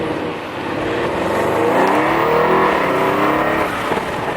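Modified 700 WHP Audi RS7 accelerating hard, a loud, close engine roar rising steadily in pitch over a few seconds with no talking.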